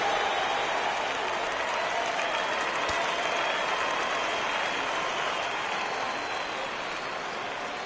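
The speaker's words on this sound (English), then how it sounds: "Crowd gets up for the 3-2." Crowd noise from a baseball video game, MLB The Show 17, a steady broad roar of cheering that holds at an even level for several seconds with no talk over it.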